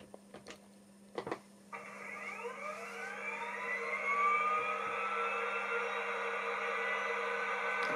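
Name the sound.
Rapido APT-E model train gas turbine engines starting up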